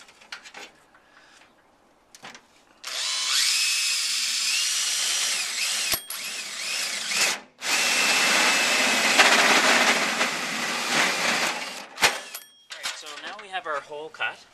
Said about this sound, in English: going to drill the hole